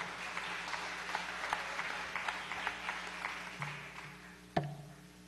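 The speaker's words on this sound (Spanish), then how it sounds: "Un aplauso." A concert audience at a show in the Ciclo SonARA 2015 series gives light, faint, scattered clapping that fades, followed by a sharp single knock near the end.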